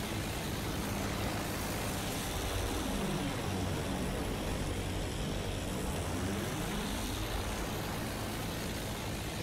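A steady propeller airplane engine drone in the video game Battlefield 1, loud and continuous, with the pitch sweeping as the aircraft passes by.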